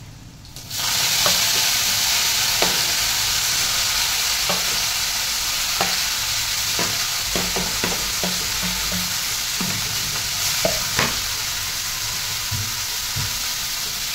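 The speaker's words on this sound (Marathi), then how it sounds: "लसूण चांगलं तांबूस कलर येईपर्यंत कधी परतू द्या. त्यानंतर ती चिरलेली कोथिंबीर टाका." Garlic and chopped coriander fry in hot oil in a pan, a steady loud sizzle running throughout while a spoon scrapes and clicks against the pan in irregular strokes.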